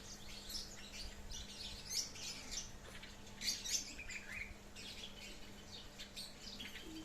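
Canaries in a breeding cage give faint, scattered high chirps and short tweets that come in small bursts over a steady low background hum.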